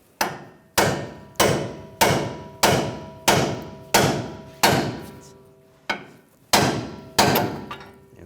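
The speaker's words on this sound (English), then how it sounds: "I'm going to use a pickle fork and separate the ball joint." Hammer blows drive a pickle fork to split the upper ball joint from the steering knuckle on a 2011-2018 Ram 1500, eleven loud metallic strikes at a steady rhythm with one short pause.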